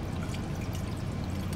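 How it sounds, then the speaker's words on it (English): Water pours steadily from a jug into a container in a semi truck cab, a continuous close splashing stream lasting the whole moment with no talking. "Now we'll take and put just some water in there."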